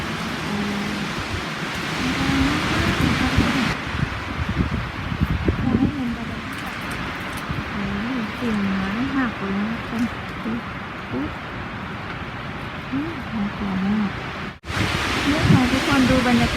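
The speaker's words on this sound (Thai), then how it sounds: "ได้ยินไหมคะ เสียงลม" Wind gusting through very tall pine trees on a dark, cold evening in nature, a steady broad rushing roar that continues throughout, with someone talking over it.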